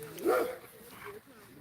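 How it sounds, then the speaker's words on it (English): A dog gives one loud bark outside a house, followed by softer whining yips, with someone talking over the sounds. "They're barking at that girl."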